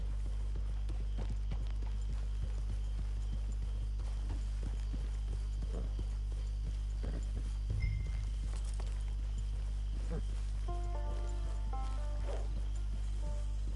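Steady clip-clop of horse hooves trotting along at a regular pace in the video game Red Dead Redemption 2 Online, close by, with a low constant hum underneath and a few short tonal chimes near the end.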